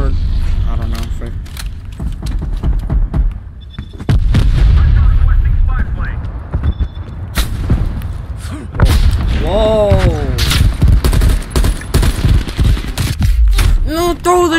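Napalm strikes in Call of Duty: Black Ops Cold War, heavy rolling booms and rumbling blasts mixed with gunfire and game effects, loud and continuous, with players talking over them.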